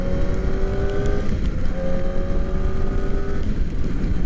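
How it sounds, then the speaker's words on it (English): Kawasaki ZX-4RR motorcycle ridden on the road, its high-revving inline-four induction howl climbing steadily through the gears, with a brief dip at a shift before the pitch rises again, loud and continuous over wind rush. "God, dude, but that induction sound, oh my goodness, dude. That induction sound is nuts."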